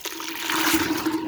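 Water rushing through pipes, a steady gushing hiss with a low hum underneath, fairly loud and close with no talking.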